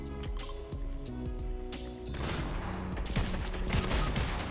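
Rapid gunfire in the video game Fortnite: a dense, loud flurry of shots and crashes building over game sounds, alone without voices.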